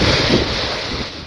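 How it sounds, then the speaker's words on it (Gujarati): Sea waves surge along the Khambhat shore in a continuous rushing wash, with wind buffeting the microphone. The sound is loud and near and swells slightly at the start. "દરિયા કિનારે ફરી મોજા ઉછળ્યા"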